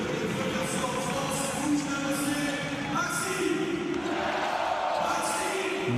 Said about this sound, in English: The crowd chant his name